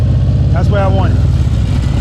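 A motorcycle engine idles and rumbles low and steady during slow-speed clutch and brake control practice, and a voice speaks briefly over it in the middle.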